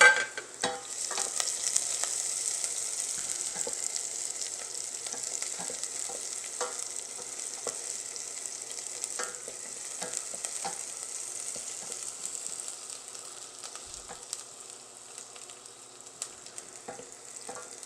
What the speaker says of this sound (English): we're just going to throw them into the oil, and we want to stir them just until they're soft and starting to get just a touch of color